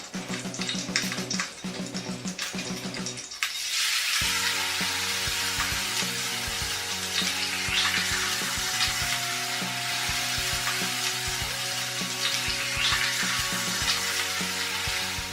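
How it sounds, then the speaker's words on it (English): Tea-rubbed salmon sears in a hot pan with a steady, loud sizzle and crackle that holds for over ten seconds, after a short stretch of other kitchen noise at the start. "We're going to cook the salmon."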